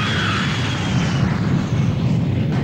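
A passenger airplane in a film scene roars past, giving a loud continuous rushing rumble with a thin whining tone that fades early on.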